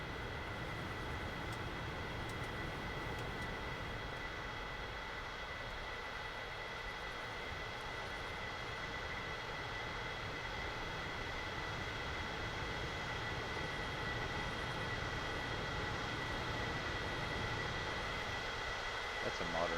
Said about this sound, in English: That's a modern day plane over there.